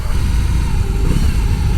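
A BMW R18 1800 cc boxer motorcycle at the Sturgis rally runs with a loud, close, deep engine rumble that stays fairly steady throughout.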